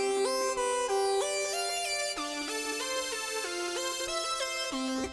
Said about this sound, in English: is this new sound that we're using. It's called Fat GR Lead, and it sounds like this.